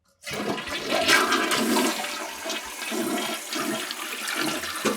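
A toilet flushes loudly and steadily right after its flapper has been replaced, with rushing, gurgling water close by throughout, and no talking over it.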